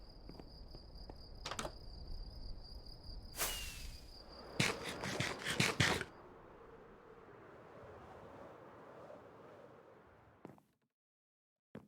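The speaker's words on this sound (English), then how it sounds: "And the crickets are chirping" Crickets chirp steadily through a quiet night as a high, continuous trill, with a few sharp bursts of broadband noise around the middle before everything drops to near silence at the very end.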